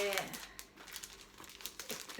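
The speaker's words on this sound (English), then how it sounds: "plastic bag." A plastic bag crinkles and rustles close by as a package of government-issued cloth masks is unpacked in Japan, with quick irregular crackles over a couple of seconds and a voice briefly speaking at the start.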